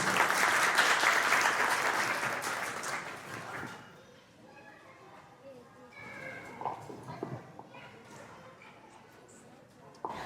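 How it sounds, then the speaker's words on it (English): Applause from guests at an annual Noah's pudding dinner, dense clapping for the first few seconds that fades out, followed by quieter room noise and a few scattered sounds. "please give them a warm round of applause"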